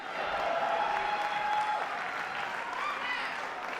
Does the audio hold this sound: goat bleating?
no